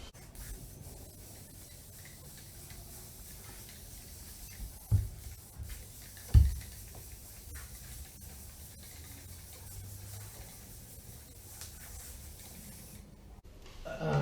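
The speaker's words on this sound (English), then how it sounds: "If there's no issues, give the whole area a good spray." Steady hissing of a spray bottle misting bleach mould cleaner onto a wall runs continuously, with a couple of soft knocks partway through and no talking.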